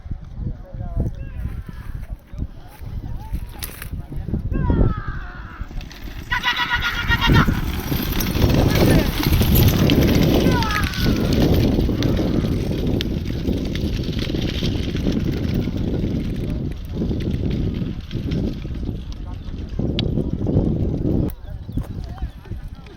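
Horse hooves clopping in a lively outdoor village race crowd, with loud chatter and shouting throughout and an occasional bleat of livestock.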